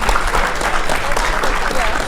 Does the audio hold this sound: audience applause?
yes